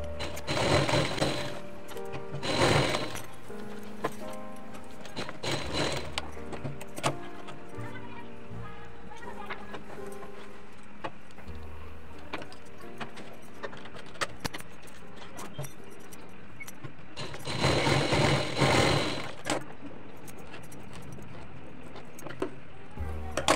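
A sewing machine stitches a katori blouse in short runs of rapid, rattling needle strokes separated by quieter pauses, with small clicks and fabric handling between bursts; the machine sounds close and fairly loud.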